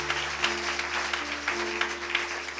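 Audience applause at a Christian testimony gathering praising Jesus Christ, a steady wash of clapping over low sustained organ or keyboard tones, moderately quiet throughout.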